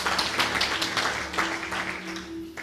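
A church congregation at an Ascension Day service clapping together, a brief dense wash of applause with a sustained organ or keyboard tone underneath.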